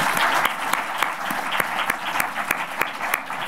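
An audience at a film festival opening ceremony applauds the screenwriters with dense, steady clapping, a few sharper individual claps standing out regularly above the crowd.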